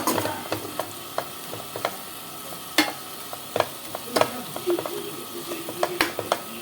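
Gongura leaves and prawns cooking in oil in a pan: a steady soft sizzle and crackle, broken by sharp scraping clicks as the mixture is stirred at an irregular pace.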